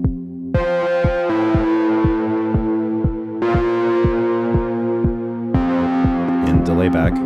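A synth sequence from a Collision Devices Black Hole Symmetry reverb pedal pulsing in a steady rhythm, its sustained notes drenched in reverb that lingers between chords.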